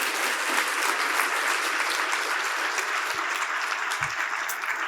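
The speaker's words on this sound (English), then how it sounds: "Let's give them a big round of applause," A full room of attendees at the closing of the 2019 Diversity Forum conference gives loud, sustained applause, a dense, continuous wash of many hands clapping for about five seconds.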